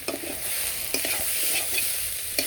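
Cauliflower and potato frying in oil on a stove, a loud continuous sizzle with occasional scraping stirs and clacks of the utensil, close up and with no talk.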